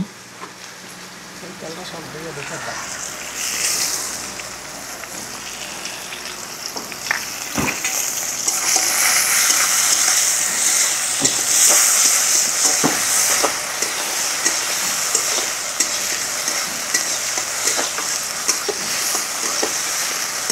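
Onions frying in mustard oil with cumin in a pan, a steady broad sizzle that swells and stays loud throughout, with occasional stirring clatter and faint talk in the background.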